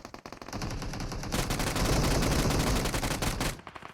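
Rapid automatic gunfire from players shooting at each other in PUBG, a dense loud burst of overlapping shots that builds mid-clip and cuts off near the end.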